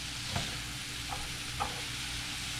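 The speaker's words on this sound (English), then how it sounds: "Just gotta let the onion soften just a little bit." Onion softens in a pan with a faint, continuous low sizzle and a few soft stirring taps, quiet and steady, with no voices.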